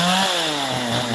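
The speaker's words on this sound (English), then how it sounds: "So my chainsaw, cutting forest" A chainsaw runs steadily at high revs while cutting through mountain forest to clear land for farming, a loud continuous whine with a slight shift in pitch partway through.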